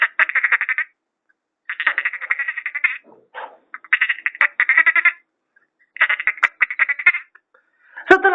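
A man vocally imitating a frog, producing bursts of rapid, rattling croaks in rhythmic phrases separated by short pauses, loud and close with no other sounds.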